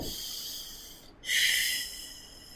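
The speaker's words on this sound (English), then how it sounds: "We're going to breathe in." One deep inhalation during a guided meditation, a close breathy hiss swelling for about half a second and then easing off over steady background noise.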